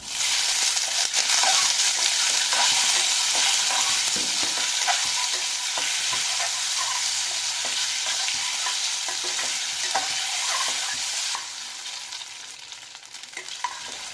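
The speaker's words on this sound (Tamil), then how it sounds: "அடுத்து நம்ம வேக வச்ச கொழுக்கட்டையை போட்டு நல்லா கிளறி விட்டுறலாம்." Steamed kozhukattai rice dumplings being stirred in a hot pan with curry leaves, giving a steady close sizzle with repeated scraping and clacking strokes of the spoon throughout, easing slightly near the end.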